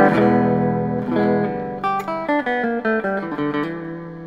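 An archtop electric guitar with a P90 pickup strums a ringing chord, then picks a quick run of single notes, close and clear with no voices.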